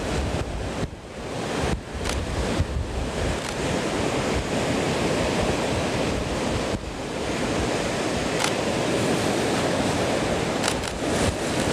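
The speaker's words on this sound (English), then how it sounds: "there's waves crashing all around that house there" Stormy sea waves crash against rocks around a house, a loud continuous roar of surf with bursts of spray and wind buffeting the microphone, no voices.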